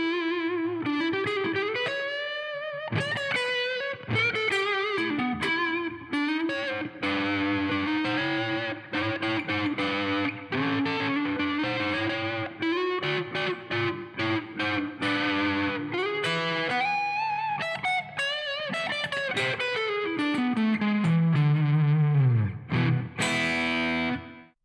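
Overdriven electric guitar with an Alnico 2 neck pickup playing a sustained melodic line with bends and a closing slide, clear and up front with no voices.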